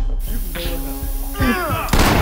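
Gunfire in the tactical police shooter Ready or Not: a sharp, loud shot or burst arrives near the end, with voices talking over a busy game background.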